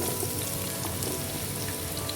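Onions frying in hot desi ghee with whole coriander, cinnamon, black pepper and cloves, giving a dense, even, rain-like sizzle that holds steady and close throughout.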